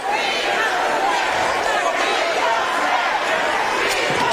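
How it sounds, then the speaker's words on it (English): Basketball fans in the arena at a SWAC tournament first-round game between Alcorn State and Jackson State keep up a steady, loud crowd roar while a commentator talks over it. "The fans starting to cheer for Snacks as he's standing up without his warm-up shirt on."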